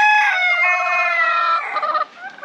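Ayam Cemani chickens on a Jamaican animal farm, with a rooster giving one loud, close crow that trails off into softer clucking near the end.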